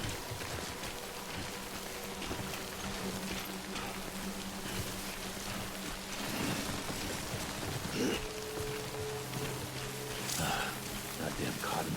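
Rain in the video game Death Stranding falls as a steady, soft hiss of drops spread across the whole clip, with faint low tones and brief clunks over it.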